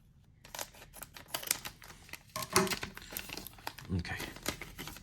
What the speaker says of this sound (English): So I'm just going to open this one with the scissors.